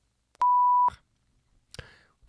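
A steady electronic censorship beep masks a swear word in French speech. It is a single flat tone about half a second long, framed by clipped fragments of a voice before and after.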